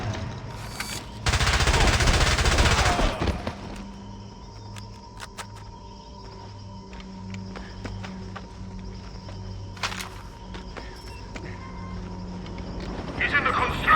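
Gunfire in James Bond 007: Blood Stone opens with a loud, sustained automatic burst, then scattered sharp single shots and clicks ring out over low rumble while voices shout in the background.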